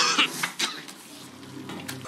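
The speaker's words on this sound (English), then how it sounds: "Person coughs" Someone coughs in a film scene, a few harsh throat-clearing coughs up front that fade into quieter rustling and faint clinks.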